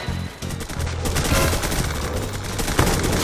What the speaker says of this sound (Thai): ยิงด้วยปืนคู่